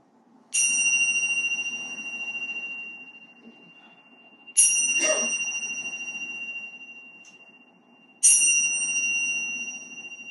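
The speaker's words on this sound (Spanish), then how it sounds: "al cuarto golpe de campana, pues volvemos" A bell is struck three times at evenly spaced intervals of about four seconds, each a bright, clear ding with a long ringing decay, fairly faint over a quiet room.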